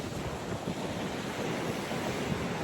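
Ocean waves washing steadily at seaside ocean baths, a continuous broad surf roar with wind noise on the microphone and no voices.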